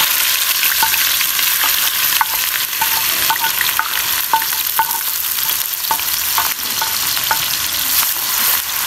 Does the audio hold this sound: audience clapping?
no